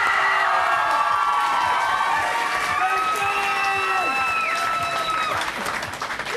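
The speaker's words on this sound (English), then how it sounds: "give them another round of applause" A studio audience at a live Sonic Youth TV appearance gives steady, full applause with some cheers and whoops, sustained loud throughout before easing slightly at the end.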